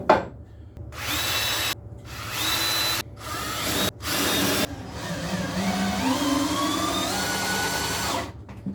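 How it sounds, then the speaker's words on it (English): A power drill countersinks pilot holes in wood, whining in several short bursts separated by pauses, then running longer with rising pitch as the bit cuts, close and clear. "I'm going to countersink the top of those two pilot holes I just made"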